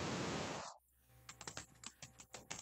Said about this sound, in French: je vous entends taper sur le clavier